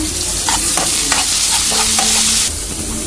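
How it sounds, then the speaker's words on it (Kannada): Onion, egg, curry leaves and green chili fry steadily in a pan with a loud continuous sizzle, broken by several scraping stirs of a spatula, no voices. "ಇವಾಗ ಚೆನ್ನಾಗಿ ಗೋಲ್ಡನ್ ಬ್ರೌನ್ ಬರೋ ತನಕ ಫ್ರೈ ಮಾಡ್ಕೊಳ್ಳೋಣ"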